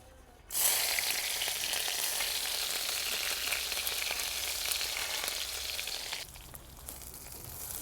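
Oil and chopped green chillies hit a hot kadhai with a sudden loud sizzle that holds as a dense crackling hiss for several seconds, then drops to a softer fry near the end.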